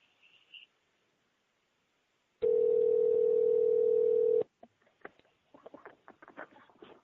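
A steady telephone dial tone sounds for about two seconds after a call is hung up. It follows a quiet stretch and gives way to soft clicks and tapping handling noise.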